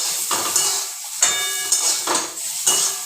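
Eggplant seasoned with salt and turmeric frying in oil, its sizzle broken by repeated metallic clinks and scrapes of a utensil stirring the pan at a loose, regular rhythm.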